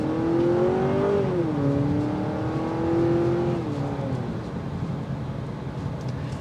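A 2023 Honda Accord Hybrid Touring accelerates in sport mode, its engine drone rising and falling in pitch as the revs climb and shift, heard steadily from inside the cabin with no talking over it.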